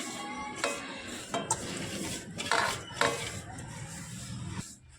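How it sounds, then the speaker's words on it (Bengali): An olive pickle mixture is stirred in a wok, with a utensil scraping and clanking against the pan in several uneven, close strokes and no talking. "আচার বানানোর জন্য এবার মিশ্রণটাকে কড়াইয়ের মধ্যে দিয়ে দেব"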